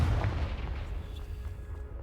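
A Confringo blasting spell detonating in the Hogwarts Legacy video game, a deep booming explosion with a low rumble that lingers and slowly fades, heard alone without speech.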